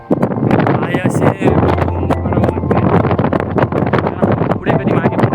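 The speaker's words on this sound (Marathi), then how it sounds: "वारा इकडे भरपूर आहे." Strong wind buffets the microphone on the bastion of Peb Fort, a loud continuous roaring rush with gusty swells, while someone speaks underneath it.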